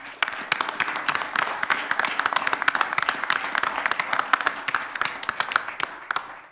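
Applause at a village board meeting in La Grange, a small room's worth of people clapping briskly and steadily, sharp overlapping claps that carry on and fade near the end.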